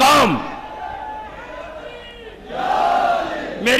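A crowd at a Shia majlis religious gathering in Jogipura, India, chants slogans in unison, loud rhythmic shouted calls rising and falling, with a voice leading between the responses.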